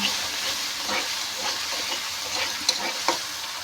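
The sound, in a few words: onions frying and being stirred with ginger, garlic, cumin paste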